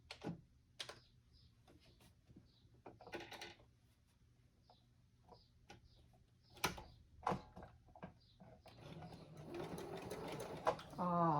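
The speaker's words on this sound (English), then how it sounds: "I'm going to sew these 2 pieces with a straight stitch." A sewing machine runs a straight stitch through two pieces of fabric for a green journal cover. Scattered ticks and clicks give way to a sustained, louder run of whirring stitching near the end.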